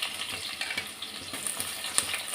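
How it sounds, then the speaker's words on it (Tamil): Sliced big onions drop into a hot pan where mustard seeds have already popped, frying with a steady close sizzle and a few sharp crackles, no voices. "நான் கட் பண்ணி வச்சுருந்த பெரிய வெங்காயத்தை போட்டுடுவேன்."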